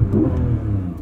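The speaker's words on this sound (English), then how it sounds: "Exhaust sounds fantastic." Porsche 718 Cayman GTS 4.0 flat-six engine and exhaust with exhaust mode on, a steady low rumble that rises briefly in a short rev, close and loud with no talk.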